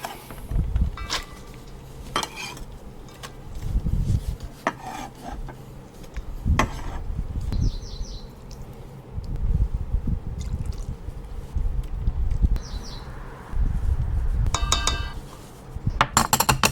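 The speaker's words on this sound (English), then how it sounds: "And we're just gonna whisk it all up." A mixture of molasses, mustard, salt and sliced yellow onion being whisked in a bowl: irregular wet scraping and sloshing strokes with occasional clinks, close and fairly loud, no talking.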